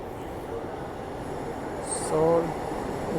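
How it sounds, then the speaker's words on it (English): A Seoul subway train approaches the station in South Korea with a steady low rumble that swells near the end, then a brief high wheel squeal as it arrives, and a voice speaks faintly over it. "So now the train was approaching, now it is approached."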